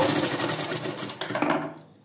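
A sewing machine stitches along hand piping in a quick, continuous run of needle strokes close by, slowing near the end before stopping.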